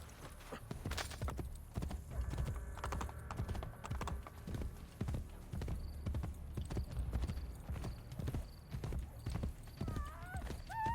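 Horse hooves clip-clop at a steady galloping rhythm in Assassin's Creed Brotherhood, loud and continuous throughout, with brief game sound effects and a short whinny-like tone near the end.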